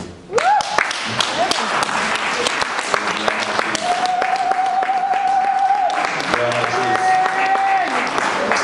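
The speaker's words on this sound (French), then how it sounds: "Vos acclamations m'énervent." A church congregation applauds and cheers loudly, sustained dense clapping with shouts and whoops, while a voice speaks or sings over the crowd.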